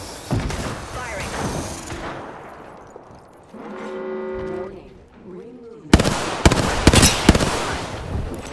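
Gunfire in a battle royale style video game comes in sharp bursts and crackling volleys, loud and near, with a short gap and a voice speaking between shots.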